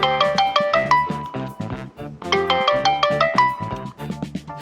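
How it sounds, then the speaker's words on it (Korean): A phone ringtone for an incoming call plays a bright, repeating electronic melody of chiming tones in steady phrases, loud and close, with no voices over it. "전화가 왔습니다."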